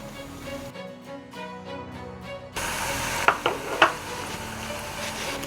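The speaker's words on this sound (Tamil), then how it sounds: "தேய்ச்சி வச்ச நம்மளுடைய சிறிய சிரோட்டிகளை இதில் போட்டுடலாம்" Small rolled chiroti pastries drop into hot oil, where a sudden loud sizzle starts after a quiet musical stretch and continues with a few sharp clinks of utensils against the pan.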